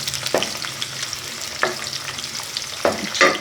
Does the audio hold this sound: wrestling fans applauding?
no